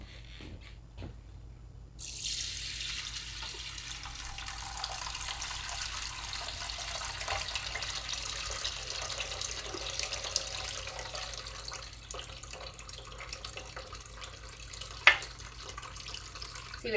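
Hot broth strained into a canner, a steady, moderately quiet stream of pouring liquid that starts abruptly and runs continuously, with a few light clinks near the end.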